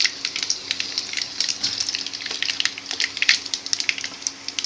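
Bay leaves and panch phoron spices crackle and sizzle in hot oil, a steady close frying hiss with dense bright popping throughout and no talking.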